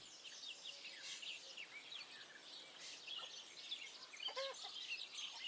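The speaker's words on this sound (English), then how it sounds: "we should be hearing just some birds whistling" Birds whistle and chirp in a quiet outdoor ambience in the medieval game Kingdom Come: Deliverance 2, scattered faint calls overlapping throughout against a soft, hushed background.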